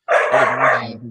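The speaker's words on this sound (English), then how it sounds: "pardon my dogs in the background" Dogs bark in the background of a home setting, one loud, close yelping bark that trails into a whining tone and fades within a second.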